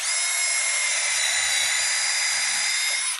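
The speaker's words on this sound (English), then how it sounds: "apply a small countersink" Power drill spins a countersink bit into wood for a tall deck chair build, a steady loud high-pitched whine that holds for about three seconds before cutting off abruptly.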